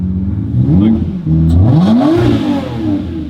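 A hypercar engine revs up and down in a few sluggish swells, loud and close, slow to rise, its pitch rising and falling unevenly.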